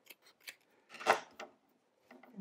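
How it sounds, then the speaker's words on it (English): Scissors snipping through craft felt for a small movie-themed blanket, several crisp cuts at close range with one loud central snip, no talking. "I'll cut my felt again,"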